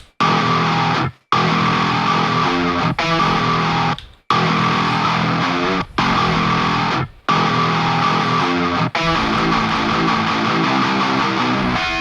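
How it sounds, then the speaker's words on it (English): Heavily distorted, low-tuned metalcore guitar riff chugging in tight bursts, broken by several abrupt silent cuts between edited sections, loud and with no talking. "Okay, so when we get that riff fully tracked, it's going to sound something like this."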